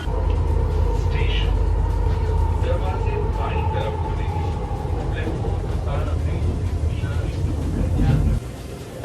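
A Delhi metro train at Model Town station rumbles steadily with a low, constant roar and faint tonal whine, muffled voices mixed into the noise.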